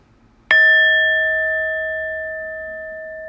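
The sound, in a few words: singing bowl being struck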